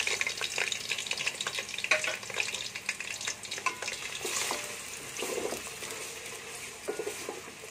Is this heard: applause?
no